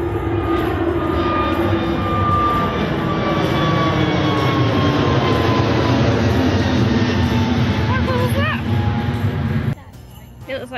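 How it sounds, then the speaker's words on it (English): An airplane takes off at the end of an airport runway, a loud, steady roar that holds for nearly ten seconds before dropping away sharply. "You see there, the plane taking off."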